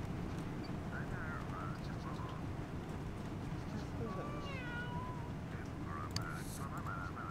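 A cat in the video game The Sims 1 meows several times, short rising and falling calls scattered over a busy background of game noise and muffled voices, moderately faint.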